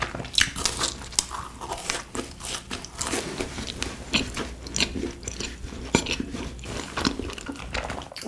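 Close, crisp crunching bites and chewing of a rosé cheese ball, a small fried cheese snack, repeating in a steady rhythm with no talking.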